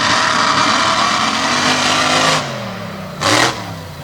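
Blown alcohol paddle tire dragster roaring through a run, a loud, dense engine howl sustained for over two seconds, then dropping away before a short second burst near the end.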